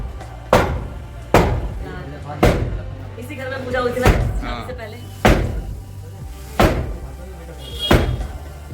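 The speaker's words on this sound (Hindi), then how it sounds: "देखो भैया ये वाली तोड़ रहे हैं, ये वाला। हाँ ये वाली टूट रही है अब।" Heavy hammer blows knocking down the walls of a house under demolition, seven loud thuds spaced about a second apart, with people talking between the strikes.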